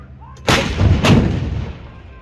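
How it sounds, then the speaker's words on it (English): Bofors and Dhanush artillery guns fire a round at an army firepower demonstration at Devlali, Nashik: two loud, close booms in quick succession, each rolling into a long reverberating rumble that slowly fades. "The Bofors and Dhanush gun systems will now fire a first round on Bohra 1."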